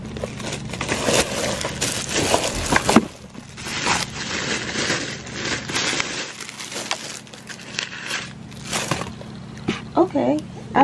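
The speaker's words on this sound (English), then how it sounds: "Let's unwrap them so we can see one up close and personal real quick." Newly bought shoes being unwrapped from their packaging, with close, irregular crinkling and rustling of paper or plastic in bursts, interspersed with brief quieter pauses.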